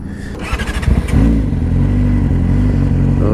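A Yamaha R6 motorcycle engine, just rebuilt, cranks with a few rapid bursts and then catches, settling into a loud, close, steady idle with a slight rev.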